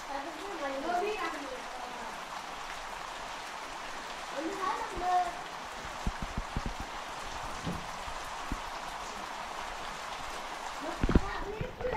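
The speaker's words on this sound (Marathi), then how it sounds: "तर मंडळी पाऊस कंपल्सरी चालूच आहे" Heavy monsoon rain falls steadily on a village home under dark skies, a constant wash with sharp drips and taps striking nearby surfaces, while someone talks over it throughout.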